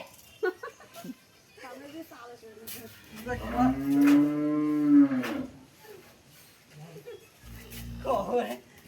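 A large Fleckvieh cow weighing about 40 maunds lets out a long, deep, resonant moo up close, followed by a shorter low moo, with people talking around it.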